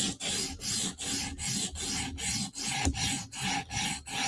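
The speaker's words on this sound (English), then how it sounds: "Okay, and we're going to sharpen now." Knife blade drawn across a sharpening stone clamped in a holder, giving about eleven regular, close rasping strokes with short breaks between them and no voices.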